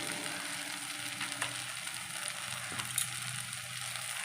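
Cumin, coriander and chili powder frying in oil for an egg curry, a steady close sizzle with a few faint clinks of a stirring utensil against the pan.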